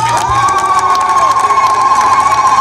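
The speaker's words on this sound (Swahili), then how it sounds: "mpigeni makofi" A large crowd at an outdoor public ceremony for a road-building foundation stone cheers and shouts loudly and continuously, with children's voices prominent and a sustained whistle-like tone riding over the roar.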